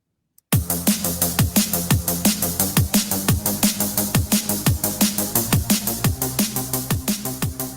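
Electronic bass line pumping under a steady drum beat, the bass ducking in a sidechained rhythm with each kick as the loop runs continuously, close and loud, no talking.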